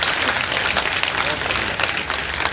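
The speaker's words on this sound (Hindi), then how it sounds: "इनके लिए एक बार जोरदार तालियां बजाएं सभी।" Audience applause at a college annual function in Neemkathana, a steady dense wash of clapping throughout, loud and close with a busy crowd feel.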